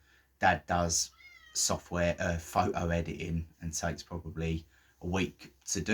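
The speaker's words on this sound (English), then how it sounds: "So if you hear a weird meow in the background," A Bengal cat gives a short, high meow in the background while a person talks steadily over it nearby.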